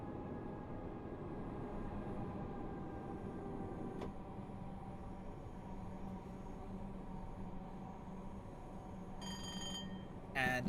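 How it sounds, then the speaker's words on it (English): A cab bell rings in Train Sim World 6, signalling a green light ahead, heard as a sharp ding near the four-second mark over a steady rumble of the moving train, with a brief bright chiming burst near the end. "it is the bell noise as opposed to the demented goose, which means we have a green light ahead"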